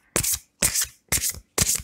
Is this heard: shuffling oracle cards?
yes